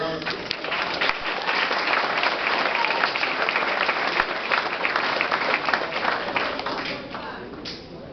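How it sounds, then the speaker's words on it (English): A school awards ceremony for eighth-grade students fills with a big round of sustained audience applause, dense and loud from a large crowd throughout, easing slightly near the end, with voices mixed in. "Give them a big round of applause."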